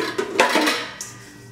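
Worn plastic bowls clatter as they are handled in a kitchen cabinet of pots and pans, giving a few short, close hollow knocks over a second and a half with no talking.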